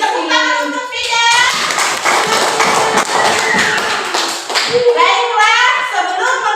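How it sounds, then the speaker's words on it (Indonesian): A classroom full of students applauding a classmate with a burst of brisk, dense clapping, close and loud, while a teacher's voice is heard speaking before and after. "Tepuk tangan untuk Fida."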